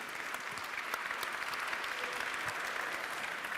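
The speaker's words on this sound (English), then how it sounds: "Please have a round of applause just to start with some energy for the speakers" Audience applause for the speakers at a manufacturing-transition round table, steady dense clapping that fills the whole moment at an even level.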